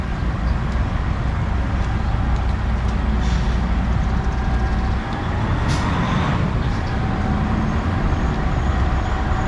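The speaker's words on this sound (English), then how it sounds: "And here come a couple of tour buses" A couple of passenger-loaded tour buses rumble along Main Street in Bar Harbor, Maine, their engines droning close by with a low, steady roar and a brief hiss partway through.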